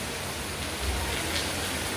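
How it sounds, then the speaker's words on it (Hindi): Heavy rain pouring outside a home in India during a sudden downpour, a dense, steady hiss of falling water filling the whole sound, continuous and fairly loud with a soft low rumble underneath. "बारिश हो रही है बाहर बहुत तेज़ी से"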